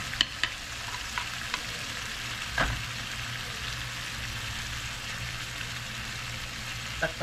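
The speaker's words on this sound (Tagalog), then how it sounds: "Tapos lalagay natin yung pinagbabaran natin kanina." Beef steak sizzles steadily in a pan after its soy-based marinade is poured in, a faint continuous frying hiss broken by a few soft clinks and one brief louder splash-like burst.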